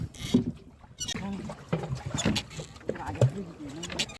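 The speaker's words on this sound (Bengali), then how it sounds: "তো আমাদের নৌকা হাওয়ার টানে প্রচুর স্পিড হয়ে গেছে" A fishing boat slapping through water in a strong Kalbaishakhi storm wind in the Sundarbans, rushing, gusty wind noise, short splashes and creaks over a few seconds, with a voice briefly heard.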